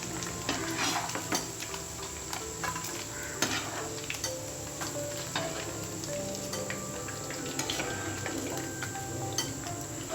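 Paneer frying in a pan for paneer fried rice, with a steady quiet sizzle and frequent clinks and scrapes of a utensil stirring against the metal.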